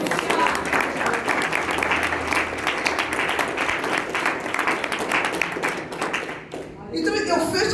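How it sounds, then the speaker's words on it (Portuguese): A church congregation gives sustained applause during a sermon, a steady dense wash of clapping mixed with crowd voices, fading briefly before a short burst of sound at the end. "Dá uma salva de palmas"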